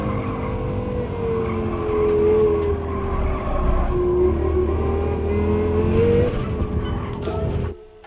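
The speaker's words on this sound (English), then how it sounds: "oh yes the heavenly V10 sounds" A V10 race car engine in the Gran Turismo 7 video game drones loud and steady, its pitch sliding up and down through gear changes, with a brief screech of tires before it cuts off abruptly near the end.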